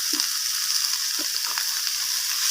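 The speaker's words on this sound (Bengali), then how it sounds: "তো আদা বাটাটা দিয়ে আমি আবারও নাড়াচাড়া করে নিচ্ছি" Ginger paste fries in a pan with a steady broad sizzle, broken by a few soft scraping stirs of a spoon; close and fairly loud, with no talking.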